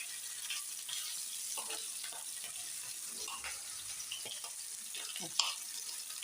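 Snakehead fish pieces, including a head, fry in hot oil in a wok, giving a steady sizzling hiss scattered with small pops and crackles.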